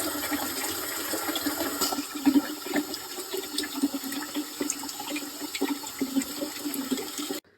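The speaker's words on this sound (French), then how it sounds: "on va faire couler l'eau pendant 5 minutes pour bien les rincer" Cold tap water runs steadily in a continuous broadband rush, rinsing seeds after a hot water and bleach treatment, with faint splashing and no talk over it until it cuts off at the end.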